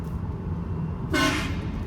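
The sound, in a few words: train horn fitted on a BMW 3 series car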